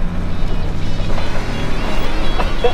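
A rat rod truck stuck in snow, its engine droning and revving in a steady, loud, rumbling roar as it strains to spin a donut, with voices talking over it.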